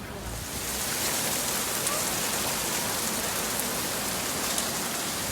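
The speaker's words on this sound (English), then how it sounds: "Well, the rain's come back." Steady winter rain falls in a Corfu town, a dense, even hiss of drops on surfaces that swells slightly in the first second and then holds constant, with no voices.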